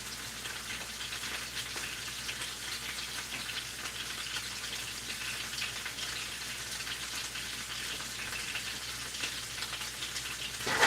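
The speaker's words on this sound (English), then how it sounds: "I'm going to take my mushrooms and I'm going to put them in the pan" Mushrooms and burger patties fry in a hot pan for a mushroom Swiss burger, giving a steady, dense sizzle and crackle that runs unbroken throughout with no voices.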